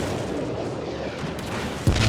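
Warship guns firing in World of Warships: Legends, a heavy, continuous rumbling roar of distant shelling with a sharper boom near the end.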